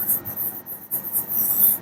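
Pen or marker writing on a board or page during a maths lesson, a steady scratchy stroking that pauses briefly between strokes, close and alone without talk.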